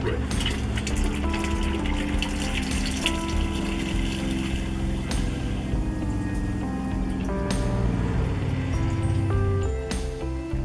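Steady rush of water as a pump fills a 6-gallon hot water tank in an A-frame popup camping trailer, its continuous hum underneath, loud and close throughout.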